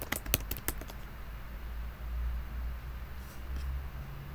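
Quick clatter of keys on a computer keyboard in a quiet room, a burst of close taps at the start followed by faint low hum and near silence.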